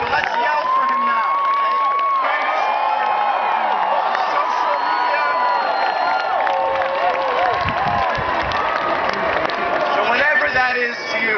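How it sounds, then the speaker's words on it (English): A large outdoor crowd at a 2016 Bernie Sanders political rally in Santa Barbara cheers, whoops and yells continuously and loudly, a dense wall of voices with shrill individual shouts sustained throughout. "So let's yell for him now."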